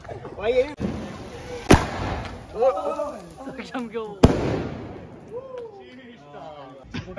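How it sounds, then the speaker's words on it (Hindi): Two sharp, loud bangs of Diwali firecrackers burst a few seconds apart outdoors while people talk and laugh nearby. "एक एक बम ढूंढ ढूंढ के फोड़ रहा हो यार"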